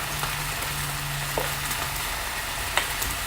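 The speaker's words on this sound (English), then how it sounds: "Then we'll stir this up." A sauce is stirred in a pot while bologna is barbecued, over a steady soft sizzle. A couple of brief scraping stir sounds stand out faintly.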